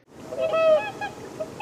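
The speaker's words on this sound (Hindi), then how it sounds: "हंस," A swan's honking call, a single drawn-out nasal note rising to a peak and then trailing off into a few shorter honks, fairly close and alone.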